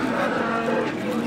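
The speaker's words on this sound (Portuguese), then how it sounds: "Olha o boi, galera. Olha o boi bravo." A bull at a cattle fair in Cachoeirinha, Pernambuco, gives a single loud, close, sustained moo that fills the whole moment.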